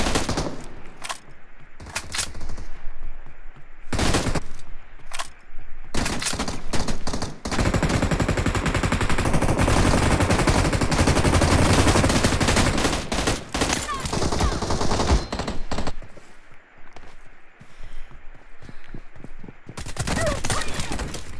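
Sustained bursts of M16 rifle fire in the mobile battle royale game BGMI, loud and close, with rapid automatic volleys broken by short pauses and a long continuous stretch in the middle.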